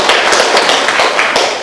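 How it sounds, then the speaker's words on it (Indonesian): Schoolchildren in a classroom clap for a classmate, a loud, close burst of rapid, uneven hand claps that runs the whole short moment without a break. "Beri tepuk tangan untuk temannya."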